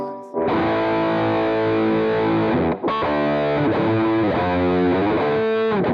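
An electric guitar played through the Fire Fuzz distortion pedal in Bias FX rings out with loud, thick, sustained fuzzy chords, broken once by a brief pause before the notes resume and carry to the end.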